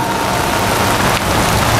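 Steady, loud rain pours down over an outdoor political rally in a town square, a dense continuous hiss with no voices standing out.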